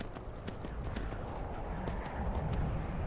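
Horse hooves clip-clop steadily in Skyrim, a close, even trot over rough ground with faint background ambience.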